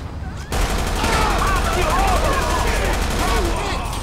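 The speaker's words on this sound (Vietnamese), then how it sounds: "Mày bắn banh xe tao luôn." Gunfire in GTA 5 during a taxi ride in a gold-plated SUV: a steady stream of shots runs on for about three seconds, close and loud, layered with vehicle noise and an excited speaking voice.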